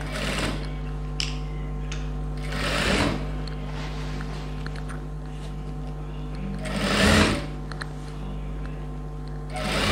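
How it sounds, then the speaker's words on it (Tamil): A sewing machine stitches a silk pavadai in steady whirring runs, with brief louder bursts near the start and middle, close and fairly quiet. "ஒரு 1/2 inch அளவுக்கு ஸ்டிச் பண்ணிடுறேன்."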